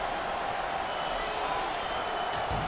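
Basketball arena crowd at a 2021 NCAA tournament second-round game, Texas A&M versus New Hampshire, producing a steady dense roar of cheering and applause throughout, with a commentator talking over it.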